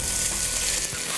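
Cubes of meat sizzling loudly in olive oil in a home-kitchen pan, a dense, continuous close fry with faint stirring scrapes partway through.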